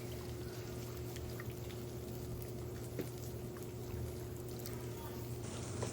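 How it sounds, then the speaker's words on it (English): Red wine is poured into a pan over an outdoor live-fire pit for a blackberry reduction sauce, a faint, steady liquid stream running continuously with low crackling background noise. "Add my wine for the blackberry reduction sauce that I'm gonna be making"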